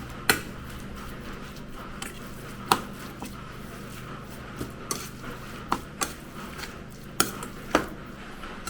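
A metal spoon stirs spices such as nutmeg, cinnamon and cloves in a pot for Portuguese laksa, giving light scraping and irregular sharp clinks against the pot.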